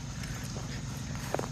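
Sheep walking toward the listener on a farm, giving soft, scattered hoof steps over a steady low hum, with a slightly louder scuffle near the end.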